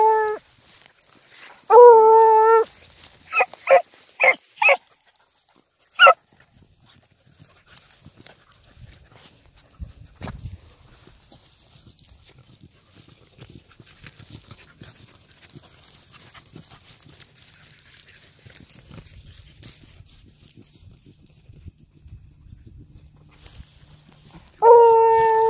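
Beagles bay and bark while running a field, with a few loud howling bays at the start and end. Between them comes a long stretch of quiet rustling and faint movement.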